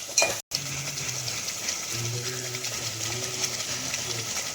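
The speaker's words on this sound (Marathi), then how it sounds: "आता ही टोमॅटोची प्युरी देखील आपण यामध्ये परतून घेणार आहोत" Onion-tomato puree sizzles in oil in a pan for misal, with a steady soft frying hiss, scraping stirs and light clinks of the spoon against the vessel, fairly close and moderately quiet.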